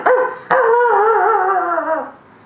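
A voice imitates a dog's bark, starting with a short yelp, then a sharp break and a longer, drawn-out howling bark that fades near the end, taught as a wrongly produced sound while learning wolf-howl mimicry.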